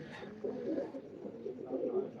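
A pigeon coos softly in a low, rolling murmur, steady and fairly faint, with a voice speaking in the background.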